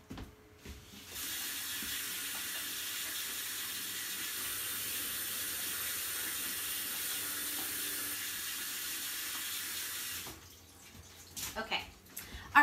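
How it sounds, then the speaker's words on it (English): Water runs steadily from a tap for about nine seconds as hands are washed in a kitchen during a sourdough bread class, a close continuous rush that cuts off, followed by faint handling clatter. "Okay, so I'm gonna go wash my hands."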